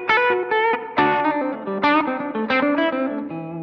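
Electric guitar through an LPD Pedals overdrive pedal at a clean-up setting, with a short run of picked notes and chords that each ring with a mildly gritty edge and fade under faint noise.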